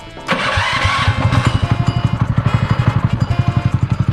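A small drift trike engine cranks and catches, then settles into a loud, steady putter with a quick regular pulse, close up and alone.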